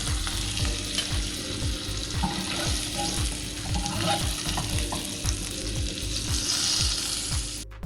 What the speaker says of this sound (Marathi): आपण हे शॅलो फ्राय करून घेणार आहे